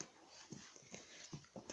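A dog whimpering and whining while grabbing at socks indoors, several short faint high whines in quick succession, no talk.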